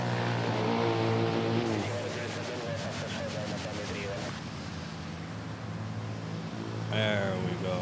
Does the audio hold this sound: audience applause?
no